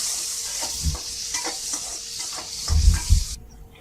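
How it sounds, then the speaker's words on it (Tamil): Tomato frying with browned onions in a pan for pepper kuzhambu, a hissing sizzle with irregular stirring scrapes and a few heavier knocks near the end, close by and without speech. "வெங்காயம் நல்லா பொன்னிறமா ஆனதுக்கு அப்புறம் தக்காளி போட்டுக்கிறேன்"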